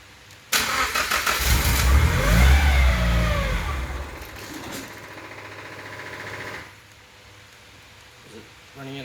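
An SR20DET engine swapped into a Datsun 510 fires up abruptly and runs loud and close with a few rough revs for several seconds, then cuts out, leaving quiet background and brief voices.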